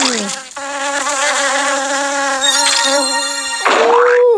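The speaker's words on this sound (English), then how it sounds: "bee is coming." A bee in the Ant Smasher mobile game gives off a loud, steady synthetic buzz with a high whining tone that holds for several seconds and ends in a brief swooping chirp, close and with no talk over it.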